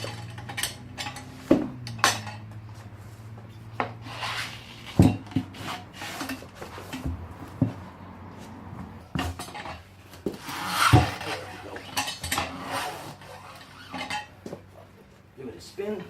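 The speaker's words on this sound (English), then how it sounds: "Now I'm going to flip it over and pop it off the bead on the other side" Tire changer machine from Harbor Freight pushing a tire off its bead on the flipped wheel, giving scattered metallic clanks, rubbing and sharp knocks at close range over several seconds.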